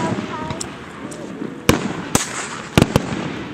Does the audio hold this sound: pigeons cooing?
no